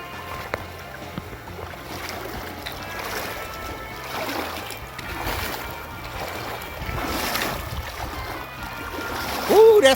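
Someone wades knee-deep across a cold, slippery creek on the Pinhoti Trail, with soft water swishing and sloshing around steady outdoor rumble, fairly faint and continuous, ending in a short burst of noise.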